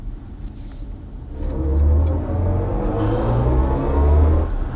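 A BMW i4 M50 electric car in sport mode emits its synthesized driving sound, designed by Hans Zimmer: a swelling low hum that rises as the car accelerates, steady and fairly loud with no talking.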